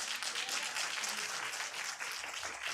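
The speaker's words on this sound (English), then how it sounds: "So the louder clapping is not going to make a difference to us" An audience at a city planning commission meeting applauds, a dense continuous wash of many hands clapping that dips briefly near the end, heard from within the room with no clear talk.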